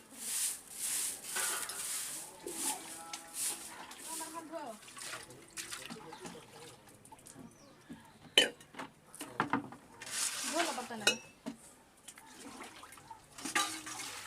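Metal dishes, pots, a griddle, a water vessel and buckets clatter and clink while being washed, with splashes and trickling water between sharp knocks, and people talk over the scrubbing.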